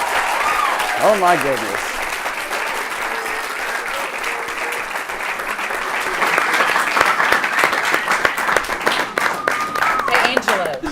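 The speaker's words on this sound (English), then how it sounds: "The clapping for you" An audience claps for a speaker in a sustained burst of applause that swells toward the end, with a voice exclaiming near the start.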